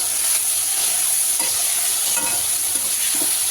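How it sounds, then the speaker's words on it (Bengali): Eggplant and potato pieces frying in oil in a kadai with turmeric and salt, giving a loud, steady, close sizzle that runs on without a break and has no voices over it. "ওইদিকে কড়াইতে হচ্ছে বেগুন আর আলুটা যেটা দিয়েছে একটু ভাজা ভাজা হয়ে আসছে"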